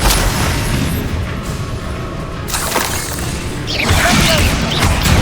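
Explosive crashes from the Bombarda spell in Hogwarts Legacy, a rumbling booming blast with shattering debris that swells toward the end, loud and continuous.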